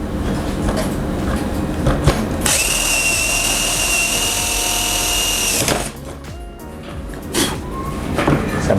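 A DELTON 3-mode 99V cordless drill runs at high speed, boring a hole in a steady loud whine for about three seconds, then spins down among handling clatter.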